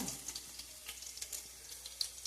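Green chillies frying in oil in a pan over medium heat, a soft continuous sizzle with light crackling pops, close and steady with no voices.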